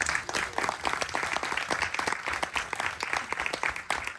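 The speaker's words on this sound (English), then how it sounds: "Let's give them another round of applause." An audience applauds filmmakers at a Q&A for the film Backyard Wilderness, with steady, moderately distant clapping from a crowd continuing throughout.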